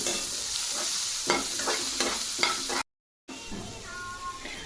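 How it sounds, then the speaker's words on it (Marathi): Onion, garlic and cashews sauté in a spoonful of oil until golden brown for a matar paneer base; a constant sizzle carries repeated rhythmic spatula scrapes, then briefly drops out. "लसूण आणि काजू हे पण यामध्ये आणि गोल्डन ब्राऊन होईपर्यंत आपण हा कांदा परतून घेऊ"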